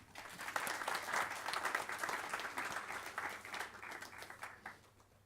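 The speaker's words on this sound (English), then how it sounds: "Let's have a huge round of applause for the team of Marketing Interest Group, please." An audience at a business school event applauds the Marketing Interest Group team, a steady wash of many hands clapping that swells early, holds at a moderate distance for several seconds, then thins toward the end.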